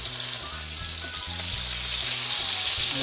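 T-bone, NY strip and tenderloin steaks searing in a hot pan give a steady, close sizzle that runs evenly throughout, with no talking.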